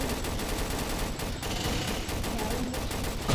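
Rapid gunfire from a zombie arena survival video game, dense overlapping automatic bursts and shots forming a continuous crackling barrage at moderate loudness throughout.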